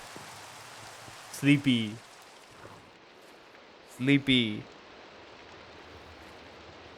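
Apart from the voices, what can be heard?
rain in the video game Minecraft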